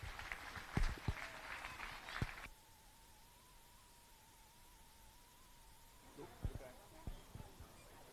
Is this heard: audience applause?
yes